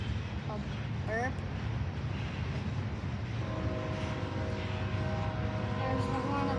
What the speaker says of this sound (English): There's the horn of the train.